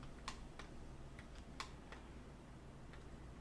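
Faint keystrokes tap on a computer keyboard, including the Enter key, as a handful of soft, separate clicks spaced irregularly over a low background hum, with no talk.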